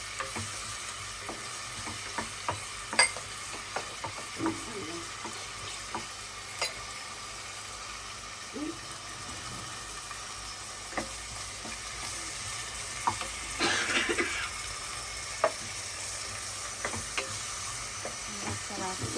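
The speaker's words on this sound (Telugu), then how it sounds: "కొంచెం ఫ్రై అవ్వాలి కాబట్టి ఫ్రై చేస్తున్నాను" Spring onions and ginger-garlic paste fry in a pan for biryani, producing a continuous low sizzle punctuated by frequent spatula taps and scraping stirs, close but moderately quiet, with no voices.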